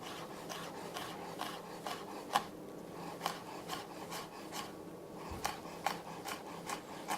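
A kitchen knife slices vegetables into thin strips on a cutting board during a knife-skills lesson, giving a close, steady run of soft rasping strokes with a few sharper taps of the blade against the board.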